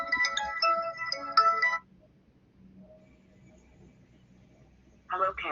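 A telephone ringtone plays loudly for almost two seconds as a mass notification call comes in, then drops to near silence before the ringing starts again at the end.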